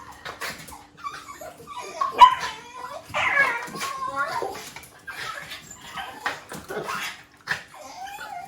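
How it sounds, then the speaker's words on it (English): A pet dog named Pep barks, yips and whimpers excitedly in several short bursts close by, with a person talking intermittently over the noise. "Oh, dogs."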